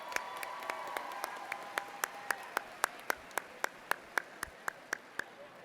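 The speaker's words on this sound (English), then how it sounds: "Everyone, join me in another round of applause and thank Holly for that great job." Audience at a Clover Park Technical College commencement ceremony applauding, with a steady wash of clapping and a single nearby pair of hands striking sharply and evenly, about three times a second, slowing slightly as the round fades.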